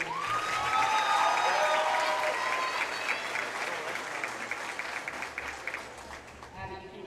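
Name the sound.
applause for senior cheerleader at basketball game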